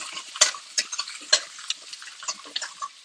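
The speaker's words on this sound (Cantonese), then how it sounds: "連呢一個蘿蔔我都唔放過佢啊，爆一爆佢先" Radish is stir-fried in a wok for Hong Kong-style oxtail borscht, with a utensil scraping and clattering against the pan in irregular close strokes over a light sizzle.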